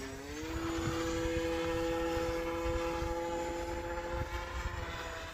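An RC Sbach model airplane flies in cold winter weather, its engine and propeller droning steadily with a sustained buzzing tone that holds throughout, fairly loud and continuous with a slight pitch shift early on.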